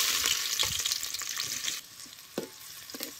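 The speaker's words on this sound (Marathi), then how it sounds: "आता बारीक चिरलेला कांदा टाकायचा." Finely chopped onion goes into hot oil in a pot, giving a loud, close sizzle and crackle that eases after a couple of seconds, with scraping stirs and no voices.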